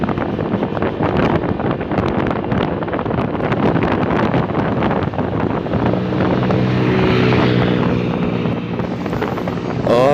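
Steady Honda Click 125 scooter engine drone with a raspy aftermarket exhaust note, loud and continuous throughout, with wind rushing against the microphone as it rides.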